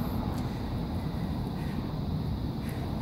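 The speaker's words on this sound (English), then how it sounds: "And there goes an aeroplane." A distant aeroplane flying overhead gives a steady, faint, low rumble with a soft airy hiss, continuous for about three seconds with no voices.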